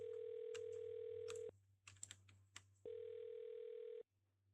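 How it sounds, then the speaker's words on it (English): A phone number dialed on a telephone line: a steady dial tone, a run of quick button presses and beeps, then the tone again before it cuts off, with no talk. "I'm going to dial her phone number right now"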